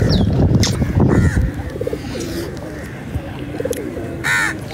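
A flock of pigeons and crows crowds around scraps of burger being handed out: cooing and repeated caws come from close by, with wing flutters and scuffling, and a person talks now and then.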